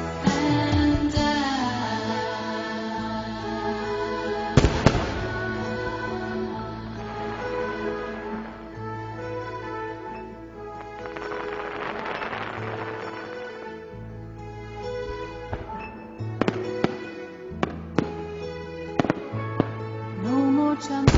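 Fireworks over Dubai Creek in 2013: scattered loud bangs and crackling bursts, some close and sharp, others distant, heard over music playing throughout.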